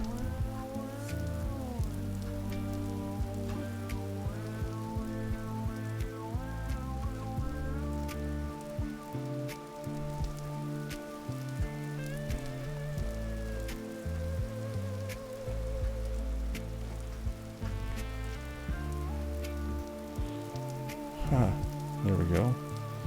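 Rain falls steadily in the video game Vintage Story, a soft continuous patter under a bed of layered tonal game music that runs the whole time.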